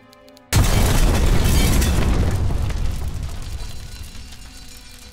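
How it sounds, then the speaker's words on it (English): A dynamite and nitroglycerin bomb blast at the Los Angeles Times building in 1910, heard as a sudden loud boom after a brief quiet lead-in, followed by a long rumbling roar that slowly fades. "an explosion rocked the building, collapsing half of it and sparking fires"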